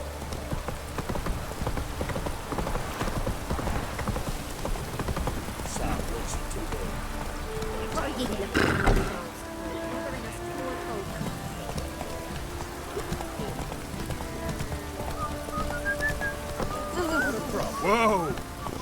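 Roach the horse gallops through rain in The Witcher 3, with steady clip-clop hoofbeats under constant rainfall and game ambience and a brief louder thump midway.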